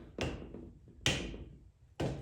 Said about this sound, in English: I took my rubber hammer,